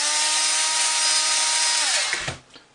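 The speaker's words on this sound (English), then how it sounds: "to get the motor out, we'll just get those screws out of there" A cordless drill or power driver backs screws out of an RC car motor mount on a dually truck build, a steady high whine running close and loud for about two seconds before it spins down and stops, with a few small clicks after.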